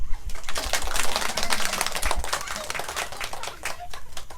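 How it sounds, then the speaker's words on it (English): An audience at a Buddhist talk gives a round of applause, a dense patter of many hands clapping that holds steady for several seconds, with a voice speaking through it. "Round of applause."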